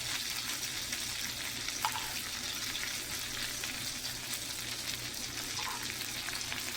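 A marinated lamb steak fries in a pan, giving a steady, moderately loud sizzle with a fine crackling texture and a couple of faint clinks, no voices over it.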